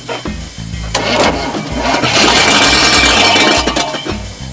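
A 1984 GMC Jimmy, found abandoned, cranks as its starter solenoid is jumped with jumper cables: a loud, close, rhythmic churning of the starter turning the engine over for several seconds, with a few metallic clinks.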